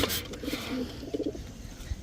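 Pigeons at a pigeon farm give short soft coos in a few brief bursts, close by and fairly quiet over a low background hum.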